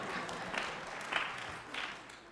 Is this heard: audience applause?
yes